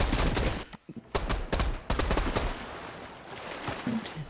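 Rapid gunfire from an opponent in a grapple-glove-only video game match crackles in dense bursts across the whole stretch, loud and close, with no talking.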